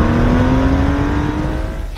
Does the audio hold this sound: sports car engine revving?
yes